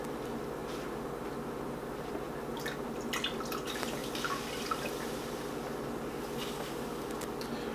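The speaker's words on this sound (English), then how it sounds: "So I'll squeeze the yarn, try to get as much of the liquid out of the yarn as possible without damaging the yarn." Liquid from yarn dyed with cochineal drips after the wet yarn is squeezed, giving a scatter of small, close, irregular drips and trickles over a steady low hum, with no voices.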